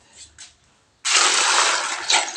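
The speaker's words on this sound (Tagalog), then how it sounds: "Lagyan naman natin ng tubig ulit." Water gushes steadily into a container to rinse aninikad shellfish for ginataang aninikad, a loud, close splashing pour of over a second after a couple of faint knocks.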